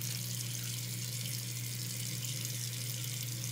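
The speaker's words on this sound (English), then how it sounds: "And I just wash all over my face." Steady running water from a sink tap while a face is washed, a close, continuous hiss with a low hum beneath and no voices.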